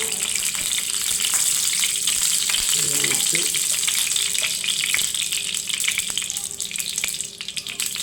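Mustard seeds and a few shallots frying in oil for tempering make a close, steady sizzle with scattered sharp pops and crackles, fading slightly toward the end.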